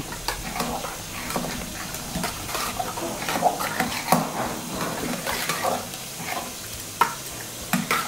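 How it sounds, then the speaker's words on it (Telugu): A ladle stirs and mashes soft, fully cooked toor dal with spinach in a pot, giving wet squelching and scraping strokes in an irregular rhythm, close and moderately loud, with no talking. "దీన్ని పప్పు గుత్తితో కానీ గరిటెతో కానీ బాగా కలుపుకోవాలి."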